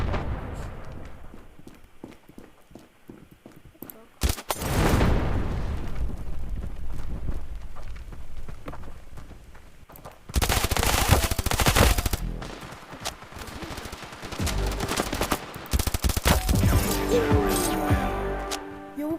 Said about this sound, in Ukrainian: Я просто в дым стрелял.